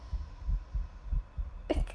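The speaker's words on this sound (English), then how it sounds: "The heartbeat's still there, meaning he's there." A heartbeat in a horror video game signals a nearby enemy as a low, muffled double thump repeating steadily about every third of a second. A short sharp burst is heard near the end.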